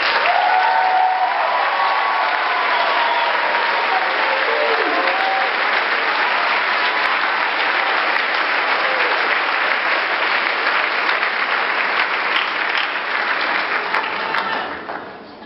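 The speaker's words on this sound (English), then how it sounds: "let's give them a round of applause" Nursing students standing at a university pinning ceremony receive a long, even round of applause from the audience, dense clapping carrying on for about fifteen seconds before fading out.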